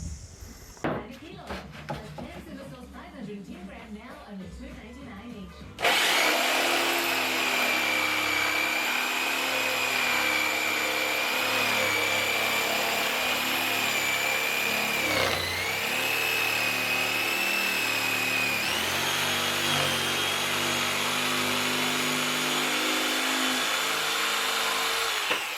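Power tool running steadily and loudly while bolting a water pump cover to the ground, droning continuously after a brief clattering start, with faint voices underneath.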